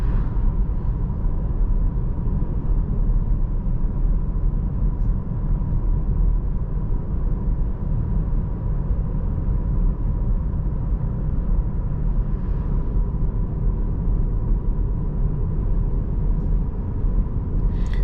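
Steady engine drone and road rumble fill the cabin of a 2023 Peugeot 408 with a 1.2 PureTech 130 HP engine, cruising at an even pace with no voices.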